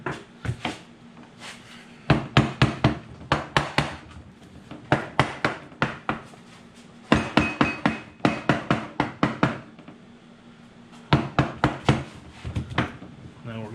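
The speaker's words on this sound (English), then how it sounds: "I take a rubber mallet" A rubber mallet thumps steadily in rapid clusters of sharp knocks during J series case assembly, close and fairly loud, with pauses between the volleys.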